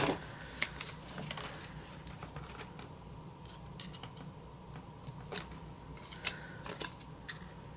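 Scissors snip through paper while trimming a memory file album for a craft project, a few quick close cuts scattered over a quiet room with light rustling and no talk.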